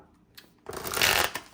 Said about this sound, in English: Let me give this a couple of shuffles.